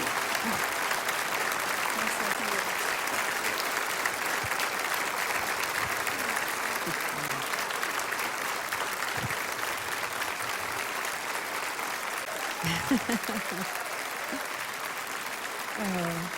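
An audience applauds steadily in tribute to the late Southern Gospel singer Rusty Goodman at an awards event, a dense sustained wash of clapping with faint voices and cheers mixed in.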